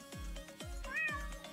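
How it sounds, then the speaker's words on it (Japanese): A cat meows three times in a steady rhythm inside a virtual-world market event, each call close and clear, with a faint electronic tone beneath the last one. "猫が、猫が捨てられてますが。"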